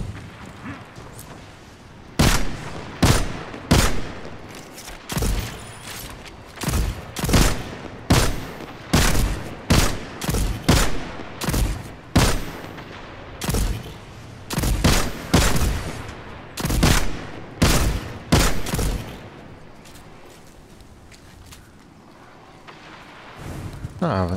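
Rapid hand cannon shots ring out in Destiny 2, a long series of loud, sharp reports fired in uneven bursts with brief pauses, people talking over the gunfire.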